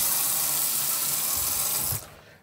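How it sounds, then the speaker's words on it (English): Hot water runs steadily from a tap in a 2018 Swift Conqueror 580 caravan, a continuous broadband splashing stream that cuts off abruptly near the end, with no talking. "As you can see, we've got hot water coming out."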